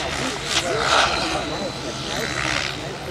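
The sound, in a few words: model aircraft engine during aerobatic manoeuvres at an air show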